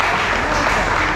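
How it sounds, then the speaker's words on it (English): Audience applause at a bird show at Pleasurewood Hills, a steady dense wash of many hands clapping, loud and continuous throughout the short stretch with no gaps. "Let's give her a big round of applause."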